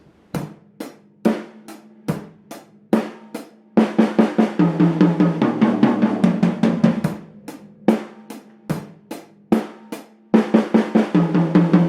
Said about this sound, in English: put the drum beat and the drum fill together